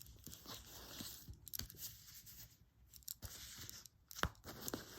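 Quiet papery riffling and soft crisp slaps of tarot cards being shuffled, in irregular bursts with short pauses, close and faint.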